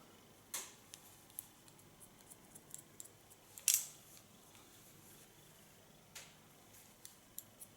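Scissors snip through strong hair during an ultra-short haircut: a few crisp, close cuts spaced irregularly over a quiet room, with faint small clicks between them.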